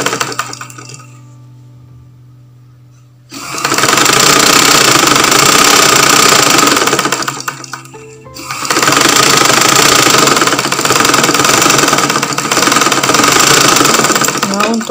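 An electric sewing machine stitches a two-layer fabric strap about 3 cm wide for a blouse. After a quiet start come two long runs of rapid, steady mechanical whirring, loud and close, with a short pause between them.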